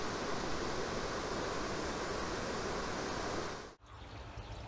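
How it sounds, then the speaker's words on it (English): River cascades pour beside an old bridge at Invermoriston on the Great Glen Way, a steady, full rushing of water close at hand that drops away abruptly near the end before resuming more faintly. "On the other side, these beautiful cascades."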